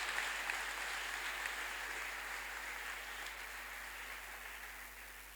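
Faint, distant clapping from a church congregation during a Sunday testimony service, a soft hiss of many hands that slowly fades over several seconds under a constant low hum.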